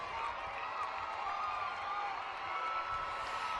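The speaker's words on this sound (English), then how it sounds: "give those wonderful people who came here today or who are watching you live a big, loud round of applause" A graduation audience at a 2024 high school commencement applauds and cheers in a steady, dense wash of clapping and crowd noise that holds throughout without letting up.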